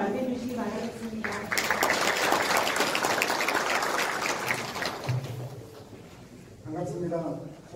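An audience at a Hwaseong citizens' regional meeting gives the mayor a burst of applause: a dense wash of clapping lasting a few seconds, with a voice talking just before and after.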